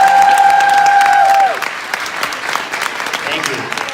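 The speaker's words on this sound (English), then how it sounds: "let's give them a big round of applause" Applause from a crowd at a fifth grade beginning band concert fades in after a sustained tone ends, clapping continuing at moderate loudness with scattered cheers.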